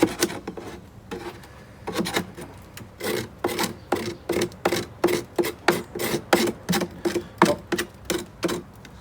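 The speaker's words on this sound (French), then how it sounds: "Vous voyez que déjà au grattoir, on en enlève beaucoup." A scraper rasps propolis off a wooden beehive floor in steady, rhythmic strokes, close and fairly quiet, speeding into a regular back-and-forth scratching pattern.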